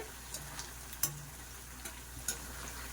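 Chicken pakodi frying in oil in a pan, a steady soft sizzle with a few small pops and light spoon ticks, close and quiet, with no talking.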